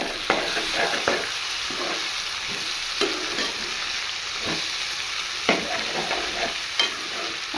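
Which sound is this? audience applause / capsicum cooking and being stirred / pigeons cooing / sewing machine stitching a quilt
capsicum cooking and being stirred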